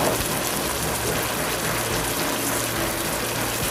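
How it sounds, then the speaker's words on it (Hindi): About half a cup of water poured into a bowl of yogurt, a steady close-up gushing rush that continues evenly from start to end. "ये दही के प्याले में ही थोड़ा पानी डालेंगे और थोड़ा सा ये आधा कप के करीब पानी डाल देंगे"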